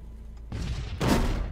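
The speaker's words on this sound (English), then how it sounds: "Let's just drop a dynamite." A dropped stick of dynamite goes off in the Fallout Equestria Remains video game, a heavy thudding boom after a softer thump, loud and close with a rumbling tail.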